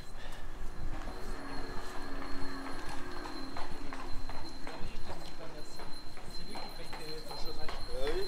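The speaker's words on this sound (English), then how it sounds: "here's a lovely horse." A horse's hooves clip-clop along a street in the ski resort of Megève, France, a brisk even rhythm at moderate distance under steady street noise and someone talking.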